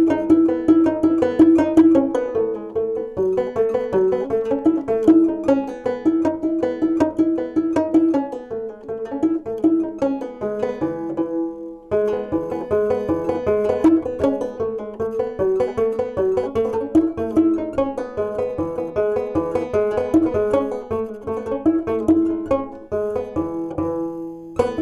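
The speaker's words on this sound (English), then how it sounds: "there's a tune called Devil's Dream that most bluegrass pickers know" Devil's Dream picked on a banjo in 1840s minstrel style, live at a bluegrass performance: a bright, fast, continuous run of plucked notes with a strong driving rhythm, close and loud, no voices.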